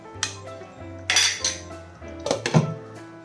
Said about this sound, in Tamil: இடையில் கொஞ்சம் திறந்து பார்த்து கிளறி விட்டுப்போம்